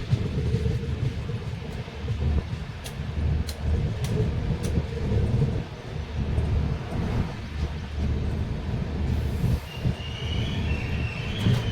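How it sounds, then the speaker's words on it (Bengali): Duronto Express passenger train from Sealdah to Bikaner running on rails near Sadulpur Junction, a steady loud rumble of wheels and carriages with brief high squeals, heard continuously from on board. "ট্রেন এসে পৌঁছলো সাদুলপুর জংশন।"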